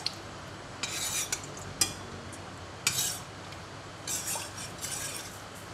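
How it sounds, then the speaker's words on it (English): Seafood soup with prawn broth, oyster sauce and sesame oil being stirred in a pot, with several quiet scraping and clinking strokes of a utensil against the pot in an otherwise quiet kitchen. "Give it a stir until the prawn broth and the seasonings are well combined."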